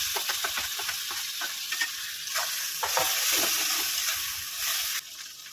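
Onions and ground spices frying together in a pan for a prawn malai curry, a steady broad sizzle with irregular stirring scrapes and clicks, close and moderately loud, with no speech.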